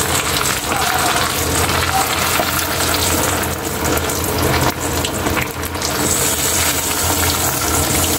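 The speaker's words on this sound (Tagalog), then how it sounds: "Mag-umpisa natin magpa-fry" Chicken pieces frying in hot cooking oil give a steady, loud, crackling sizzle that continues unbroken throughout, close and with no voices.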